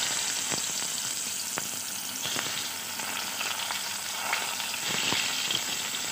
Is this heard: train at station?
no